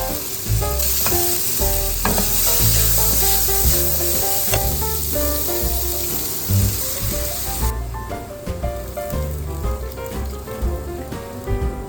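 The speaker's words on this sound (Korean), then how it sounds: "익었다 싶으면 양파를 넣고 아주 볶아줄 거예요" Onions and pork belly stir-fried in a hot pan for a pork belly rosé pasta, a loud, continuous sizzle and crackle with spatula scrapes and clatters, busy throughout with no voices.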